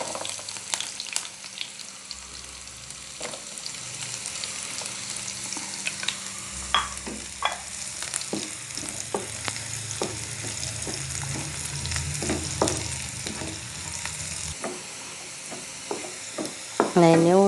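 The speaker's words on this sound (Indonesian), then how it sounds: "Goreng dulu." A squeezed tofu meatball mixture fries in hot oil, a steady crackling sizzle with sharp pops and spatters throughout, close and loud, plus occasional clinks of a utensil stirring.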